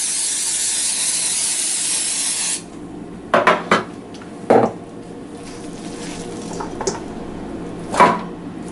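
Raw meatloaf meat pressed into a pan, with soft thuds and scraping clatters after a steady hiss fades, a few brief knocks scattered over quiet room noise.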